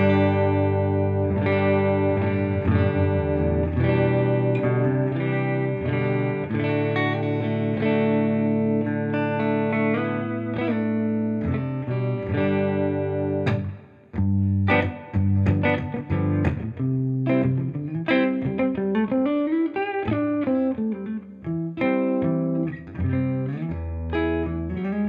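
An electric guitar played through a Bugera V22 Infinium valve amp at low bedroom volume, sustained chords ringing first, then quicker picked notes and runs, with a clear, slightly driven tone and no talking.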